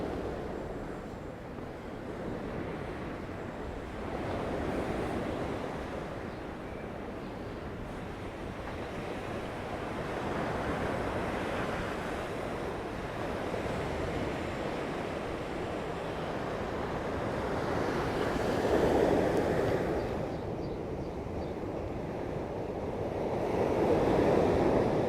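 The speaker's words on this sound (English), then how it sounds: "Some nice waves coming in." Sea waves roll onto the shore at San Telmo, Mallorca, a continuous broadband wash that swells and ebbs over about 25 seconds, with wind buffeting the microphone and no talking.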